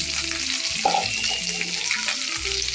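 Curry leaves crackle and sizzle steadily in a hot pan, a close, continuous frying hiss with a few brief clinks partway through.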